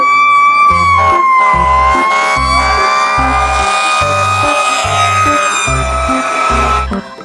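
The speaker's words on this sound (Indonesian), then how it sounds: "Yang ini ada mobil pemadam kebakaran ya" A toy fire truck's electronic siren wails loudly and continuously, its pitch slowly sweeping, over a regular pulsing beat of low rhythmic thumps.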